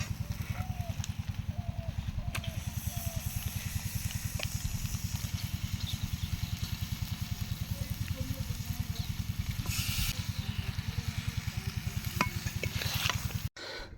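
Chicken pieces frying and being stirred in a pan of cooked-down spice masala for mango chicken, giving a steady close sizzle over a continuous low rhythmic hum throughout.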